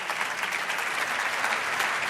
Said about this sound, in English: Let's have a round of applause for Mr.